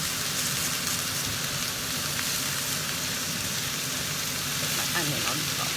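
Spicy pan-roasted potatoes fry and brown in hot oil, giving a steady, close broadband sizzle that runs unbroken throughout, with faint voice sounds occasionally surfacing beneath it.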